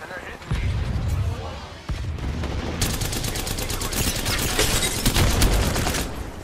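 Sustained rapid gunfire in the Apex Legends video game, with dense bursts of shots and impacts running throughout, loud and close, while a player talks over it.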